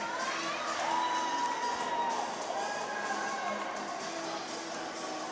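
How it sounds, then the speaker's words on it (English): A high school hockey crowd at a Minnetonka vs. Moorhead game roars and cheers after a late goal with an empty net, a loud, sustained arena cheer with whoops and shouts that slowly eases. "With an empty net, Wyatt Olsen electrifies this crowd."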